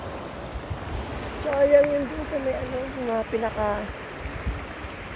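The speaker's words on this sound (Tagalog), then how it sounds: "Para siyang batis." A stream flows through a park in Shizuoka, Japan, at night, making a steady, soft rush of water beneath a person talking nearby.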